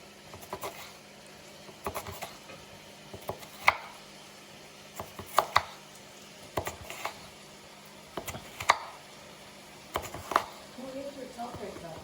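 Tomatoes are chopped into small pieces for tacos, each knife stroke a sharp chop on a board in short bursts of two or three, spaced every second or two, with a voice talking now and then.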